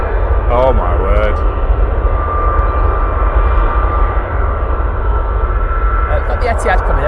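An Etihad aircraft departs Manchester Airport with a loud, sustained engine roar and a steady whining tone, while people briefly talk nearby.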